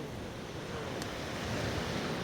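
Gentle sea waves wash onto a calm fishing beach, a soft continuous surf with some wind noise on the microphone.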